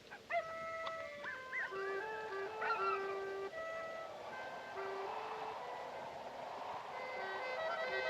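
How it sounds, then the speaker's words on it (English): Dogs howl and yip at night, giving long wavering tonal cries that rise and fall at a moderate distance, over a constant wind-like background hiss that grows softer toward the end. "Dogs are noisy tonight."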